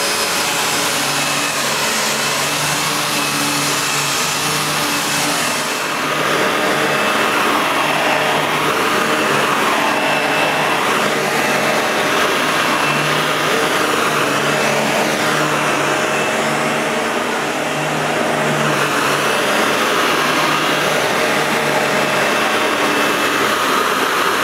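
A Shark NV350 Lift Away bagless upright vacuum cleaner running with its brush roll switched on, a loud, steady motor whine and whoosh that holds continuously, heard close and alone.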